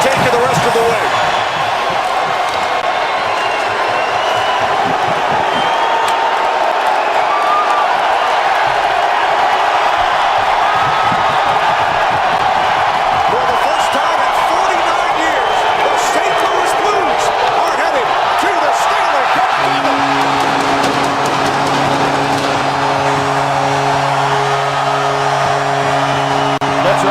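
Packed hockey arena crowd roaring through the final seconds of a St. Louis Blues game, a loud, sustained cheer with scattered claps and bangs that swells toward the end as a horn-like tone sounds.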